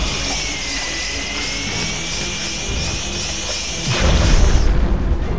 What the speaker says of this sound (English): The cerebral bore is... it's probably the most gruesome gun in this game. It fires a drill that tracks down someone